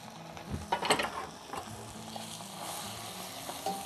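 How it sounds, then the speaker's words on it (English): Spinach cooks down in a pan with butter, giving a continuous close sizzle and hiss, with a few brief stirring clatters near the start. "the spinach you can see really cooking down quickly"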